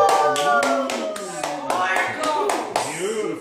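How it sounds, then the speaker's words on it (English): Hand claps at Kaitlyn's 6th birthday party, a run of sharp, fairly close claps in an uneven rhythm, with people chattering and cheering over them throughout. "Give her a round of applause"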